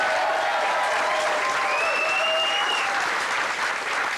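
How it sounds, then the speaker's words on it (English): Sustained applause from a studio audience, steady and loud throughout, with a whistle or cheer rising above the clapping. "Give him a round of applause."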